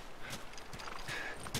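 Horse hooves clip-clopping in The Last of Us video game, a steady run of light hoofbeats at moderate distance, mixed with game ambience and brief busy noise.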